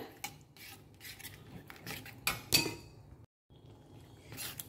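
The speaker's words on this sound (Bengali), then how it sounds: "এবার ভালো করে কষিয়ে নেব আমি মশলাটাকে।" A spoon stirs and scrapes spice masala with yogurt frying over a low flame in a pan for a chickpea curry, with soft, irregular metallic clinks and scraping strokes at close range, fairly quiet and without talk.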